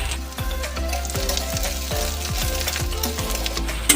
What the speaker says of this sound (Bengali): ভালো করে আমি ভেজে নিই।